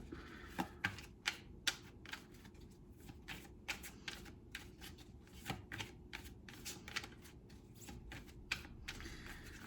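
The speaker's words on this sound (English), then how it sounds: "But let me go ahead and shuffle them again a bit more." Tarot cards being shuffled by hand, a quick run of crisp riffling bursts and soft flicks in a quiet room, with no talking.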